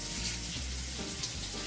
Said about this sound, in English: Use hot water so you get all the germs off.